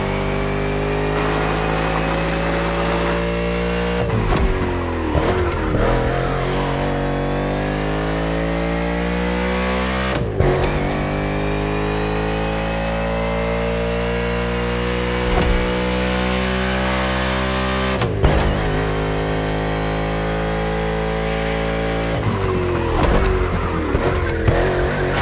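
Race car engine in The Crew Motorfest NASCAR racing, a loud steady roar with harmonic pitch sweeps as it shifts and revs, broken by brief tire squeals at a few moments.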